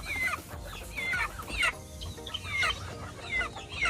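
Young backyard breeder chickens cluck nearby in repeated short, rising calls, several birds overlapping in an uneven rhythm with no voices.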